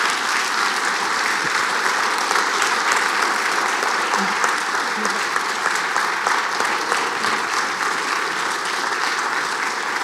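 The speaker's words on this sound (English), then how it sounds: "Let's give them another round of applause, folks." Loud, sustained audience applause at a Convention of States town hall meeting in New Jersey, an even, dense roar of many hands clapping continuously with no voices on top.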